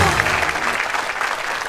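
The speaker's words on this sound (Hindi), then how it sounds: "जोरदार तालियां रेखा जी के लिए।" Studio audience on a Hindi television comedy show clapping loudly, a dense burst of applause close and continuous throughout the short moment.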